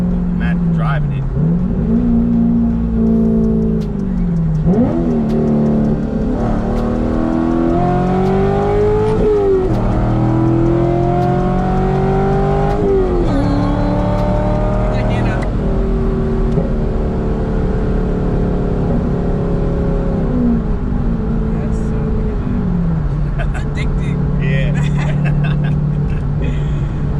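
A Corvette engine accelerates continuously from inside the moving car, loud and droning with repeated rising pitch sweeps as it shifts through gears, while people talk over it.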